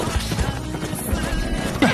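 Horse hooves clip-clop in a steady gait as a rider travels toward a city in the Chinese donghua Wu Dong Qian Kun, with a brief whinny-like sound near the end. No one speaks.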